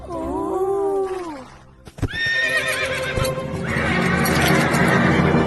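Cartoon horse whinnies loudly with a rising, quavering neigh, then after a brief pause a second, longer neigh rings out over hoofbeat-like clip-clop and busy soundtrack in an animated film.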